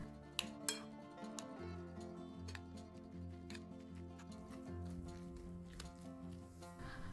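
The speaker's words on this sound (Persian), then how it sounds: "نصف قاشق چایخوری فلفل سیاه بریزید و هم بزنید" A spoon scrapes and clinks against a bowl while stirring, with several sharp taps and a soft wet churning under a faint background hum.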